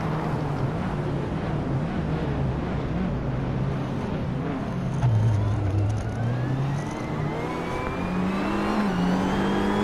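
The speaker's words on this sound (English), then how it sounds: "I hear that turbo whistle, not roar." A race car in a Hot Wheels video game drones at steady revs for about ten seconds, a thin rising turbo whistle riding over the engine, with no talk.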